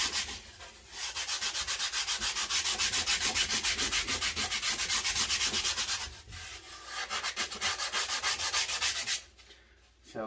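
Sandpaper rubs a carved wooden bass guitar body in steady, rapid back-and-forth strokes, loud and close, pausing briefly near the middle and again toward the end.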